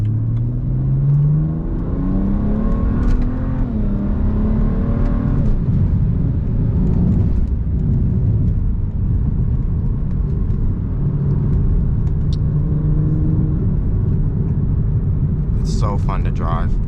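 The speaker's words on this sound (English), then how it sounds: "And then the downshift sounds so good." A BMW E92 335is with a DCT gearbox, not yet catless, revs hard with rising engine tones and drops through downshifts, heard from inside the cabin as a steady loud drone with pitch sweeps and a burst near the end.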